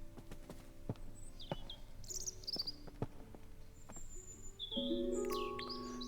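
Birds chirp in the video game Botany Manor: scattered short tweets and whistles over a soft hum, with sharp clicks and tonal chimes, quiet and close, and a brief cluster of calls near the end.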